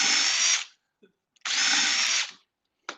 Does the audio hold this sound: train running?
no